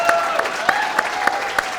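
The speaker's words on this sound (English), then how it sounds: "Big round of applause." A crowd claps in a steady, rhythmic beat, with a sustained musical tone running underneath the applause.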